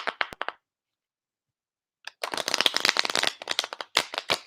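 Playing cards riffle-shuffled by hand in two bursts, a short flutter, a pause of silence, then a longer rapid run of crisp snapping clicks, close and fairly loud.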